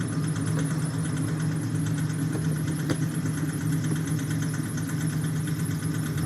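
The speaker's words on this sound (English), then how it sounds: "The monster truck behind me has started up." A monster truck engine idling steadily somewhere behind, a continuous low droning rumble with no speech, heard during an oil change on a Peugeot Partner.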